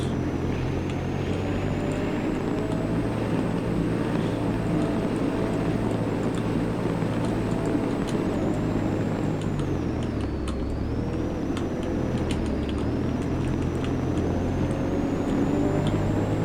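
A fuel-efficient car in the Roblox game Greenville drones with a steady, loud engine hum and a thin whine, shifting pitch now and then as it drives, no voices.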